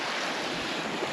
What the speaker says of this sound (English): Nice fast flowing, nice clean water.